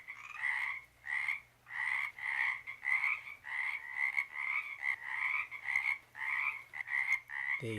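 A frog croaks repeatedly at a pond on an evening around 7:30 p.m., sending a steady series of about a dozen evenly spaced, nasal calls, close and clear over quiet background.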